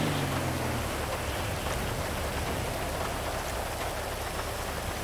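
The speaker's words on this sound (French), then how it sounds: "Il pleut en tabarnak!" Heavy rain pours down steadily in a city street, a dense, continuous hiss of drops drumming on surfaces with a low rumble beneath, loud and unbroken throughout.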